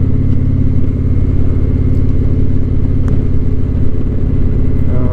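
A 2021 Indian Scout motorcycle cruising on a road, its engine giving a loud, steady low rumble with constant wind noise and no pauses.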